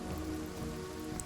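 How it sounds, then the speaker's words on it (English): Steady rain pattering from a rain spell in the video game Divinity: Original Sin, a dense, even hiss of drops on surfaces, fairly close and unbroken, with no voices. "I definitely want to put down a rain."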